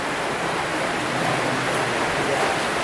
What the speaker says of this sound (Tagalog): Lakas ng ulan ngayon.